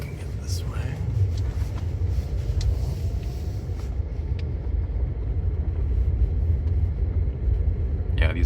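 A car rolls along a snowy road on Nokian R5 snow tires, with a steady low tire-and-engine rumble throughout and a voice talking quietly over it.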